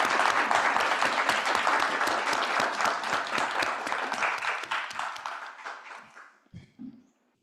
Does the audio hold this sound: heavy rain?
no